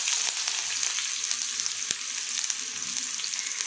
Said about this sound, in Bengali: ফোড়ন দিয়ে দেবো কালো জিরে আর শুকনো লঙ্কা, দিয়ে দেবো কিছুটা